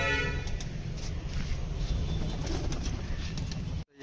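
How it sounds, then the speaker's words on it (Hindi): Pigeons gathered around scattered feeding grain coo steadily in a low, dense murmur with a faint flutter of wings throughout, ending in an abrupt cutoff. "ये कबूतर आया, देखते हैं बैठता है क्या करता है"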